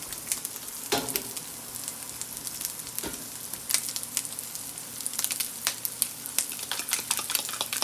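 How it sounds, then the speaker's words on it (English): An egg being beaten with about a tablespoon of milk in a bowl, a steady run of light clicking and swishing strokes with a few sharper taps against the bowl's side, close and fairly quiet, with no talking. "You want to beat your egg pretty good."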